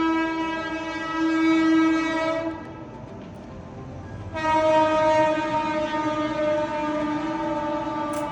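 A fast train blares its horn in two long, loud, sustained blasts separated by a short quieter gap, with rail rumble underneath and no voices.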